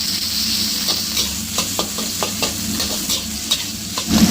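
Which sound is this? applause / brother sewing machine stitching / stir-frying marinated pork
stir-frying marinated pork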